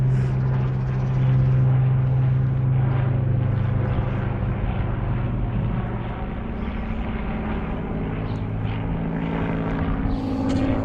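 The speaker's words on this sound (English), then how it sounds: "See those aeroplanes going over again, Charlie, look." A steady low engine drone of aeroplanes and a helicopter passing overhead, a propeller-like hum holding for the whole stretch with no voices.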